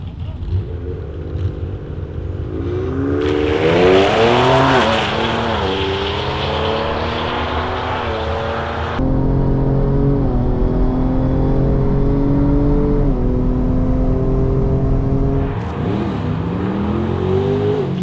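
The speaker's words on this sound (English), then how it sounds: "we're drag racing the ST tonight" A tuned Ford Explorer ST roars through a drag race launch, its engine note rising loud and strong with distinct pitch climbs and drops at each gear change.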